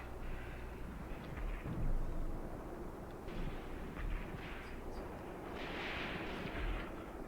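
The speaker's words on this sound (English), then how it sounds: "there's some kind of mortar there" Mortar and artillery rounds thud and rumble across a WWII battlefield near Kharkov in 1941 in Graviteam Tactics, low, muffled booms rolling in at a distance beneath a constant battle din.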